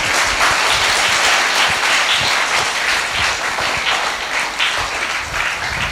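A church congregation at a feast-day gathering claps loudly and continuously, a dense sustained wash of applause from a large crowd with no pauses.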